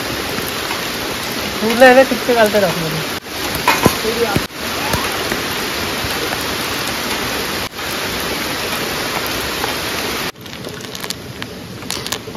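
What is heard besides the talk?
heavy rain at a forest campsite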